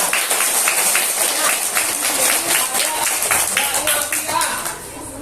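Elementary schoolchildren at an Indonesian primary school clap in a lively, rhythmic burst for a visiting guest, the crowd applause loud and sustained before tapering near the end, with an adult voice talking over it.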